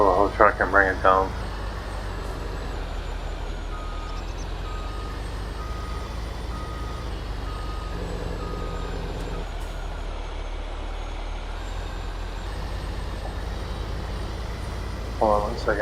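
A truck in Farming Simulator 22 reverses, its backup alarm beeping steadily over the low drone of its engine, with someone talking briefly at the start and end.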